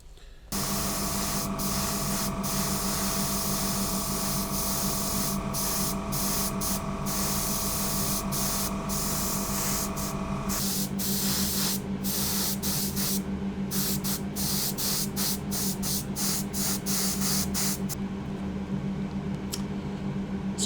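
An airbrush sprays Mr. Surfacer 1500 primer, thinned about half and half with Mr. Hobby levelling thinners, onto 1/200 Bismarck model parts. A steady, close hiss runs almost unbroken for the whole stretch.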